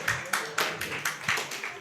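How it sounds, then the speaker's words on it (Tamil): Slow, spaced claps from a church congregation at a Sunday service, about seven distinct hand claps in an uneven rhythm, fairly faint with a little room echo. "கைத்தட்டு கொடுப்போமே"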